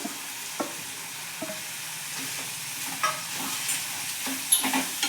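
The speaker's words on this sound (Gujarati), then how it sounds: "આપણે એક મિનિટ ધીમા ગેસે સતળાવા દેશું આપણે ટામેટાને એડ કરી લેશું" Vegetables and tomatoes sautéing in a pan over a low gas flame while making rava uttapam, a steady soft sizzle with occasional light stirring clicks and scrapes, close and continuous.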